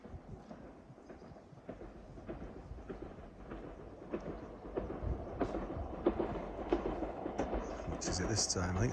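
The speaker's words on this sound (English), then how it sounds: "I can hear the train." A train, likely a Class 158 unit, approaches the platform at Exeter station, a low rumble building steadily in loudness over several seconds, with faint station ambience and no clear talk.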